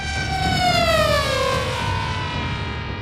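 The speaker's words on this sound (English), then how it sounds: "A drone with 4 propellers and a bullet-shaped body" Screeching high-pitched whine of a 3D-printed racing drone with four forward-facing propellers and a bullet-shaped body, a loud sustained tone sliding slowly downward in pitch as it passes, with no voices.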